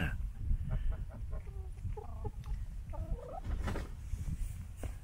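Chickens clucking and murmuring close by, with a turkey-like gobbling among them over a rustling, busy farmyard background.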